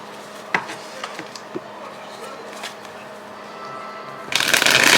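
A tarot deck is handled and shuffled close by, with scattered card snaps and taps, then a dense burst of riffling at the end.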